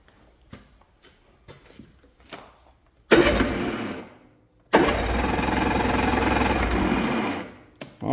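Yamaha snowmobile engine being cranked: a few scattered clicks and knocks, then two loud bursts of rapid mechanical chattering turning over, the second sustained for about three seconds before stopping.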